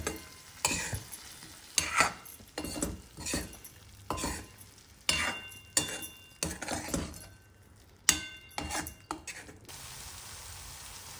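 Masala-coated fried raw banana pieces are stirred and sautéed in a pan, with repeated scraping strokes of a spatula in an uneven rhythm over a soft sizzle, ending in a quieter stretch.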